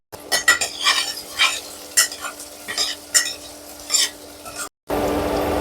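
Onion vagharia frying in oil, with a spoon scraping and clinking against the pan over a crackle, then a sudden burst of loud continuous sizzling near the end.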